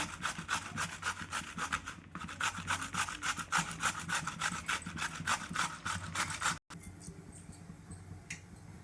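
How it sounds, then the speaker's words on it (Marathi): Vegetables are rubbed over a kitchen grater in fast, steady rasping strokes for a salad or raita. The close, continuous scraping stops abruptly near the end and gives way to quiet room noise. "किसणीवर छान किसून घ्यायची"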